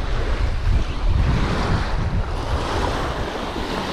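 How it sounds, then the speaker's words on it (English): Waves crash in continuously along a bank where someone is fishing, a loud, rolling surf wash with steady wind noise buffeting the microphone and no talk over it. "We got waves crashing in."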